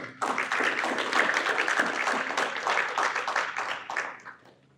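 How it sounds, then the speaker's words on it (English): Applause from an audience at a talk on AI in healthcare, a dense wash of many hands clapping that swells quickly, holds steady for several seconds, then fades out near the end, with no speech over it. "let's get a quick round of applause for Jose"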